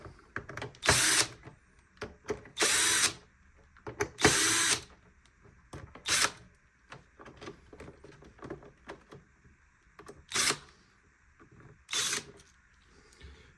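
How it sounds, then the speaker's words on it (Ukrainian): Electric screwdriver backing out housing screws on a Dreame robot vacuum: several short, loud whirring bursts separated by quieter clicks and handling noise, close up, with no speech. "І тепер викручуємо всі гвинти, які скріплюють корпус."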